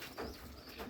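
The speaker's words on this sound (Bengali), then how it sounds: "কবুতরগুলো বসে আছে" Bombay and green-necked pigeons coo softly inside their coop, a faint, low throaty murmur rising twice within a brief moment.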